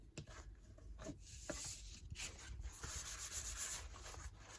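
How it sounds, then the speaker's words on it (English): Continuous soft rubbing and scraping as a layered paper pocket is burnished from the center outward, quiet and close with a few brief taps, no talking. "burnishing from the center to the outside of the pocket"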